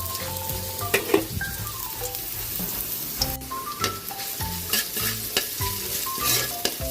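Chopped garlic sautéing in a hot pan, with steady sizzling and frying and repeated scrapes and clinks of a spatula stirring, all close and clear over faint tonal background music.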